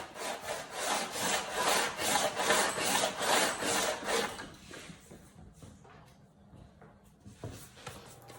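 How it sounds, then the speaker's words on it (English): Steady rhythmic rasping of very coarse sandpaper rubbed back and forth on a wooden stringed-instrument part, close and fairly loud, then easing into lighter, slower strokes. "I'll start with a very, very rough sandpaper"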